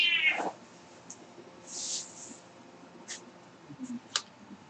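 A pet cat gives a short meow near the start, close and clear, followed by faint scattered rustles and small taps in a quiet indoor room.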